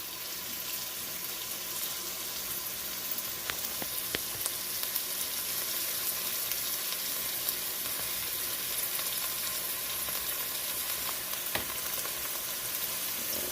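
Steady sizzling and crackling of chicken browning in a hot pan, continuous and close, with occasional faint clinks and no voices.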